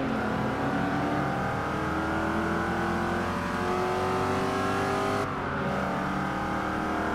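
Race car engine in Forza 5 roaring steadily at high revs with a sustained buzzing drone, then a brief dip as the car shifts gear or lifts before the engine picks back up, loud and continuous throughout.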